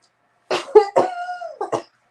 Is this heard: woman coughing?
yes